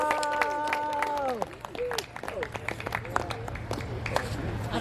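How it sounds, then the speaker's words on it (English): Audience applause at a poetry, song and jazz event, a patter of claps swelling after a brief held tone and continuing under nearby talking. "So let's really give them a big applause."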